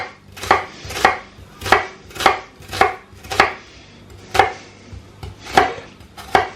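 A knife slices through an onion on a cutting board during prep for Japanese hamburger steak: about nine crisp, evenly spaced chops, close and fairly loud, with no talking.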